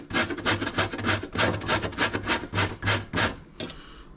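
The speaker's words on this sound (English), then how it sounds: "I'm going to grate this on a star grater on the coarse side" Something is grated on the coarse side of a star grater in about a dozen rapid, rhythmic rasping strokes, close and fairly loud, ending with a final lighter scrape.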